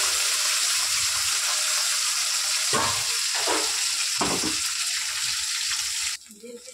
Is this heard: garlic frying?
yes